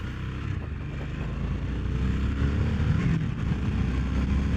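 A Harley-Davidson Sportster S with the Revolution Max 1250T engine, a 2021 model ridden on the road in road mode, gives a steady, full engine drone and rumble mixed with wind, loud and unbroken and alone.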